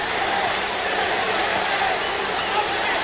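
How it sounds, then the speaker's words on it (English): A packed basketball arena crowd at a 1977 playoff game between the Celtics and 76ers, a steady, dense roar of cheering and hubbub that holds at an even, loud level throughout with no pauses. "Listen to the crowd."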